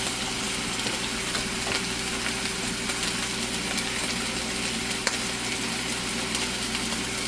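A burger patty and onions frying on a grill give a steady, close sizzle with continuous crackle and no talking.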